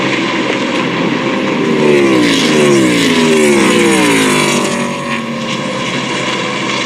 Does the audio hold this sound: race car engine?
yes